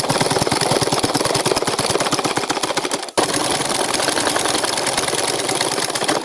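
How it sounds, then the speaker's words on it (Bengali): A sewing machine runs steadily and loud up close, stitching the shoulder seam of a dress with a fast even clatter that pauses briefly midway, then resumes. "আমি এভাবে করে দুইটা পার্ট একসঙ্গে ধরে বসিয়ে সোডার সেলাই করে নিব।"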